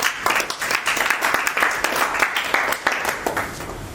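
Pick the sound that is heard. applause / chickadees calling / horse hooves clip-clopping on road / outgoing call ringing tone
applause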